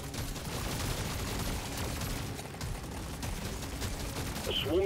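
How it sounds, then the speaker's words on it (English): Rapid gunfire from a sawed-off M1000 in Deep Rock Galactic Survivor, a fast, steady stream of shots mixed with game effects, growing louder toward the end. "That has got to be the fastest firing M1000 I've ever seen in my life"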